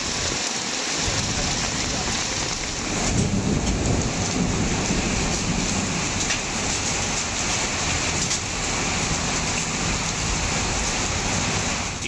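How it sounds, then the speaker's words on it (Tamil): Heavy rain lashes down with thunder and strong gusting wind in Andipatti, Theni district, a loud continuous roar of downpour with low rumbles swelling and fading. "தேனி மாவட்டம் ஆண்டிப்பட்டி மற்றும் அதன் சுற்றுவட்டார பகுதிகளில் சூறைக்காற்றுடன் கனமழை பெய்தது"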